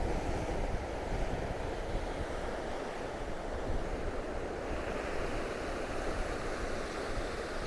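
Steady roar of surf and waves crashing against St Monans Pier on the Fife coast, with gusty wind buffeting the microphone, continuous and loud throughout, no voices.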